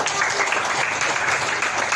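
A classroom group claps at a lesson on managing emotions, a brief dense burst of hands filling the moment at moderate loudness.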